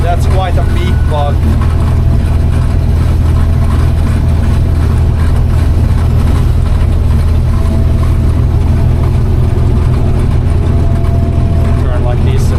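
A tractor engine runs during harvest, a loud low rumbling drone with steady idling throb that continues throughout, with brief faint chirps near the start.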